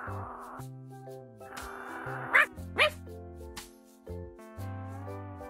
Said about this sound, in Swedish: känner sig besviken och skäller upprört.